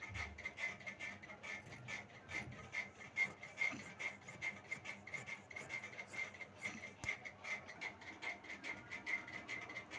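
Scissors cut through salwar fabric in a quick, repeated snipping and rasping rhythm, faint and close, with no voices.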